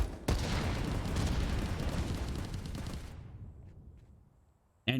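Frag grenades exploding in the VR shooter Contractors during a competitive match: a sudden loud blast followed by about three seconds of dense rumbling, crackling detonations that then fade into quiet.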